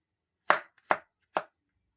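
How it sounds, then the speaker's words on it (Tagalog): Three sharp knife chops through potatoes on a cutting board, evenly spaced and close, each a crisp thud with a short tail, with silence between. "Bago natin hiwain ng maliliit lang."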